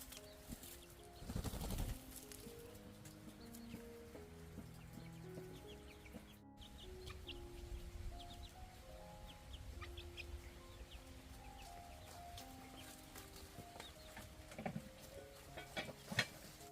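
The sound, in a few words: chickens clucking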